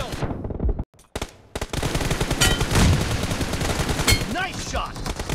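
Rapid automatic gunfire bursts from a PUBG/BGMI team deathmatch, close and loud, broken by a brief silent gap, with in-game voice callouts heard alongside.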